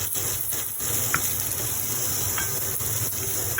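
Sausage and okra toast in avocado oil in a pan, giving a steady close sizzle and hiss with a few faint clicks of stirring.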